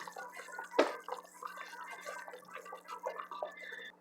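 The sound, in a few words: draining water off stewed pork meat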